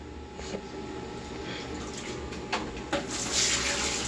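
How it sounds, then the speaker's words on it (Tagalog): Water is poured in with a dipper, a soft continuous splashing and trickle with a few brief splashes near the end, fairly faint and close, with no clear speech. "Bilis, lagyan mo tubig 2 tabo."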